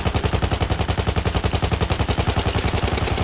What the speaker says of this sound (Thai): ก็เอาปืนธรรมดายิงเงี้ยครับ